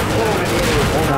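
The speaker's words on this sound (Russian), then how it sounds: "Мне кажется, танк они будут очень долго бить." Dense, continuous gunfire pounds a tank in Garry's Mod, a sustained rattling fusillade filling the whole moment with a low rumbling drone beneath, while a voice briefly speaks over it.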